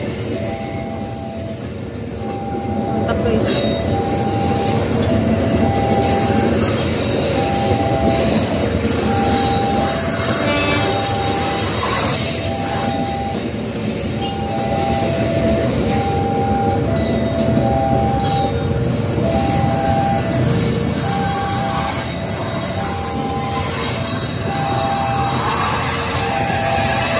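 A train rolls past Loko Cafe in Jogja, a loud continuous rumble with rhythmic wheel clatter and a recurring high metallic squeal, close by and lasting nearly half a minute.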